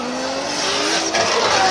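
A Lexus RC drift car slides through a Formula Drift Japan qualifying run at Ebisu, its tires squealing in a long, loud, continuous screech over a roaring engine.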